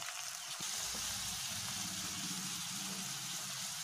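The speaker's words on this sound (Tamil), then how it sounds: "இப்ப கூடவே சின்ன வெங்காயம் சேர்த்துறலாம்" Bitter gourd and shallots fry in a pan for Kerala-style pavakkai theeyal, a steady close hiss and sizzle with a brief clatter as the shallots go in.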